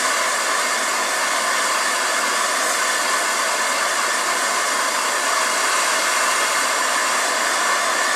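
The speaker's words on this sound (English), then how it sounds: "And you're going to use your handy dandy torch." A handheld torch heats the tines of a silverware fork. It gives a constant, loud, airy roaring hiss that holds steady throughout with no other sounds.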